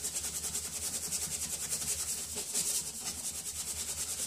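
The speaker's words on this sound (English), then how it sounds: "Work it in, and then scrub it in the brush." Soapy paint brush scrubbed by hand, a close, steady rhythmic rubbing and swishing of bristles with no talk.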